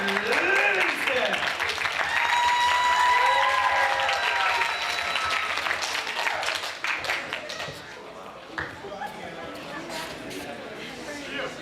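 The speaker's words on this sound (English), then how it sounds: "Ladies and gentlemen, give it up for Erin." Poetry-reading audience in Gilroy bursts into loud applause and cheering for the poet Erin, dense clapping with whoops that gradually tapers off into scattered claps and murmuring.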